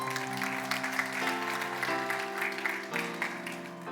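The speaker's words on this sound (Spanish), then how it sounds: "denle un aplauso al Señor porque Él es bueno" A church congregation claps steadily for about four seconds over sustained keyboard or organ chords. The clapping is moderately loud and blends into the held musical tones.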